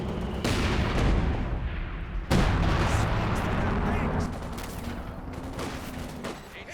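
An artillery barrage in the video game Company of Heroes 2 sounds as heavy booming blasts. Two sharp impacts are followed by rolling rumbles and scattered distant explosions.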